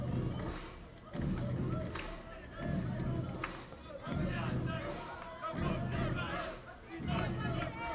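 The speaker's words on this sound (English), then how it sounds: "Wildcats crowd gets into it a little bit." A Wildcats college baseball crowd at a B-CU home game against UCF cheers in rhythmic, swelling waves of noise, pulsing roughly every second or so, with voices mixed into the din.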